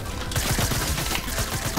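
Rapid bursts of Fortnite gunfire crackle nonstop, dense and loud, with overlapping shots forming a continuous barrage.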